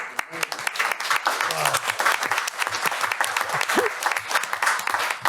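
Sustained applause from a city council meeting audience, clapping for a high school relay team, fills the room steadily and densely throughout, with a few voices faintly mixed in.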